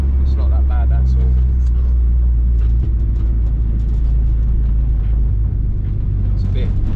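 A Honda Civic EG fitted with a K20 VTEC engine runs steadily, a loud, continuous low rumble that holds throughout, with people talking over it.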